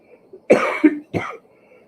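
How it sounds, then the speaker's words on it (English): Two short, close coughs, one right after a brief pause, in an otherwise quiet room. "Excuse me for my coughing."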